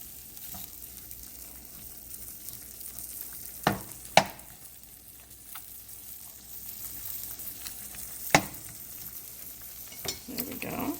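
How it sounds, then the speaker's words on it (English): Whole tomatoes, pierced with a knife, fry in a pan for tofu tikka masala, giving a soft, steady sizzle with a few sharp clinks and knocks of a utensil against the pan. "We're going to let our tomatoes start to cook"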